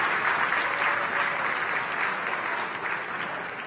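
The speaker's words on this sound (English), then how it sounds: "Let's give them a round of applause." A dinner audience at an anniversary gala applauds the Children's Chorus of Washington, a dense steady clapping that fills the whole short stretch with no talk over it.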